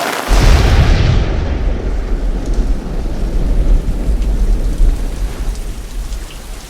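Heavy rain pours down steadily outdoors during a 5K race, with deep thunder rumbling through it, loud and close throughout and no voices.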